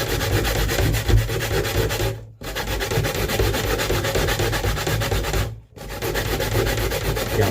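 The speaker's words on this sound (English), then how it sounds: "Yes, we're going to grate that now, right? Grate like this, right?" Coconut being grated by hand on a grater for a Jamaican run down, a steady continuous rasping scrape with two brief pauses between passes.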